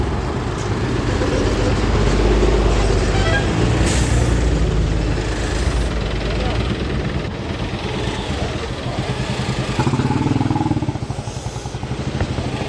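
Trucks and buses idling at a roadside stand, a loud continuous diesel rumble with engine drone and passing traffic, no clear talk.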